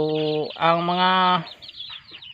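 Chickens, including a rooster, calling close by, a couple of drawn-out harmonic squawks followed by quieter clucking and rustling.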